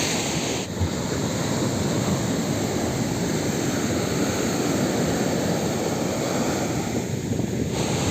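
Big sea waves on an Odisha coast in Ganjam, heard as a continuous loud broadband surf wash with gusty wind noise across the microphone and no speech.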